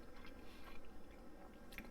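Someone bites into and chews garlic butter shrimp cooked with a slight crunch, producing close, soft crunching and squishy mastication sounds in quick succession, alone without talk.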